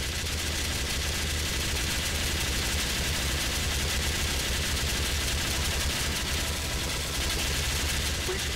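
Sustained, dense gunfire rattles nonstop through a Team Fortress 2 match, loud and close, like continuous automatic bullets blending into a constant roar.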